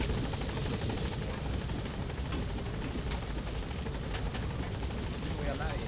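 A helicopter in Metal Gear Solid V thrums steadily in the background, a dense low rotor drone with faint crackles, while someone talks over it throughout.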